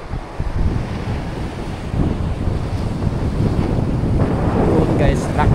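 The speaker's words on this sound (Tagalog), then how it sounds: "Grabe, lalaki ng alon. Ay laki ng alon." Big ocean waves breaking on a beach, a steady roaring surf with heavy wind buffeting the microphone, loud and continuous throughout.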